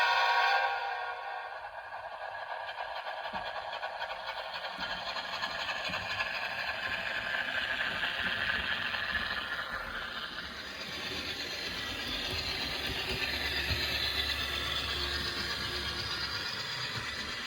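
A Walthers Canadian Pacific ES44AC model locomotive fitted with DCC sound runs in, giving a steady whirring, rattling drone of motor and gears that holds at an even level throughout, with no voices.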